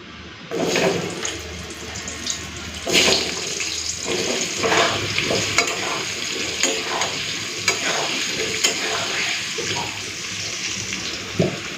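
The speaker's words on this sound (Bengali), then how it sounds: "তেলে অল্প একটুখানি হলুদ গুঁড়ো আর নুনটা দিয়ে দিচ্ছি আলুটা আগে ভেজে নিই" Potatoes fry in oil with turmeric and salt, a continuous sizzle broken by scraping stirs and clattering spatula strokes against the pan, close and fairly loud with no talk.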